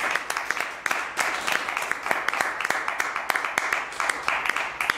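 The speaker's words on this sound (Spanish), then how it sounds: "un gran aplauso para él" An audience claps steadily in applause for guitarist Cristian Morana at a blues trio show in a small venue in Zaragoza, with sharp overlapping claps throughout.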